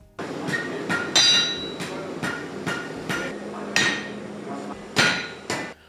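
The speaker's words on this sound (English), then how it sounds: "here's all the clips of me whiffing and striking the anvil" A blacksmith's hammer striking an anvil, about a dozen sharp ringing metallic blows at uneven intervals, close and loud, with no talk.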